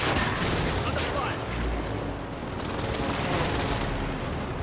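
Precision airstrike explosions rumble in a video game battle, a sustained barrage of deep booms and crackling blasts rolling continuously and layered, with a heavier low thump near the middle.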